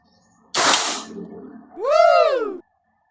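A Tac Hammer Big Tank regulated PCP air rifle fires a single loud, sharp shot, followed about a second later by a rising then falling whistle-like tone.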